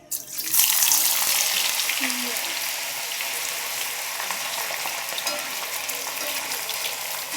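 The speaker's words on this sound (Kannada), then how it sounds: "ಈಗ ಚೆನ್ನಾಗಿ ಫ್ರೈ ಮಾಡ್ಕೊಂಡು ಇವು ಗೋಲ್ಡನ್ ಬ್ರೌನ್ ಆಗೋ ತನಕ ಮಾಡ್ಕೋಬೇಕು" Sliced potatoes for aloo fry hit hot oil with a sudden loud hiss that settles into a steady, dense sizzle of frying, close up and continuous throughout.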